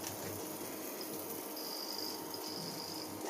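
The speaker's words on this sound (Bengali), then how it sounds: "হাতটা আমি ধুয়ে নেব।" Hands are washed under running tap water in a home kitchen while beef kebabs are being made, a faint, steady splashing rush with no talk.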